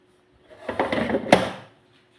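An air fryer basket holding kozhuva fish and curry leaves slides shut with a short rolling scrape ending in a single firm clunk, close and alone.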